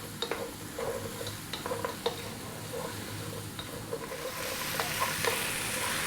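Chicken soup with black pepper being stirred in a pot over above-medium heat, a soft continuous sizzle with scattered clinks and scrapes of the spoon, the hiss swelling louder toward the end, and no speech.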